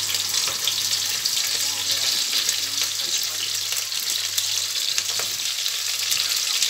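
Onions fry in hot oil in a pan, a loud dense continuous sizzle with faint stirring clicks running through it, close up.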